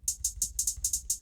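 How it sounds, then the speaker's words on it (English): Drum-machine hi-hat sample from a music production demo, seven crisp bright ticks in a fast steady rhythm, close and dry over a faint low thump. "and we got this hi-hat."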